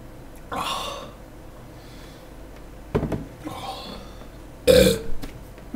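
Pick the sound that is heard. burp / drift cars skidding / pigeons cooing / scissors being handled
burp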